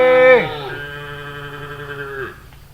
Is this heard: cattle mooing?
yes